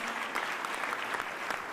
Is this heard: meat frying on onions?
no